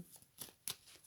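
Tarot cards being cut by hand make a few soft, papery swishes and riffles, quiet and close, with short pauses between them and no talk.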